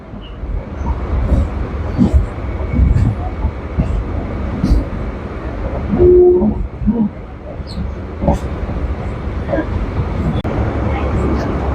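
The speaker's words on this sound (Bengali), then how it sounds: "মাঝেরহাট স্টেশন থেকে ট্রেন ছেড়ে দিয়েছে এর পরবর্তী স্টেশন হচ্ছে গিয়ে রিমাউন্ট রোড" A Kolkata local train leaving Majerhat station rumbles steadily along the tracks, with rhythmic clacks and a brief louder squeal partway through, under some background voices.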